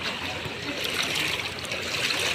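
Flood water during heavy rain, a dense continuous rush of splashing and sloshing close by that stays steady for a brief moment, with no clear voices.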